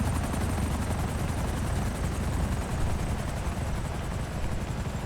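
Helicopter rotor in an online shooter game, a steady loud low thumping drone filling the whole stretch with faint gunfire mixed in.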